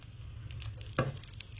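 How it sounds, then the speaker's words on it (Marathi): Mustard seeds sizzle in hot oil while a Goan-style festive tempering is prepared, a steady close crackle with one sharper pop of spitting near the middle. "फोडणी रेडी करताना हांगसर सगळ्यात पयलीं इल्लेशें तेल ऍड करपाक जाय, तेच्या मागीर सासवां, इल्लीशी सासवा ऍड करूंक जाय"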